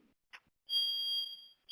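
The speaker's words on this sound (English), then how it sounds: "The fire alarm's going off in my house." A household smoke alarm sounds indoors: a shrill electronic beep lasting about half a second follows a brief click, then a second beep starts, with no talking over it.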